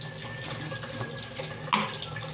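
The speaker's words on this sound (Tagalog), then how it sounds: "Lagyan natin ng tubig." Tap water runs into a sink or bowl holding dragon fruit, a close steady splashing trickle with a brief louder gush near the end and no talking.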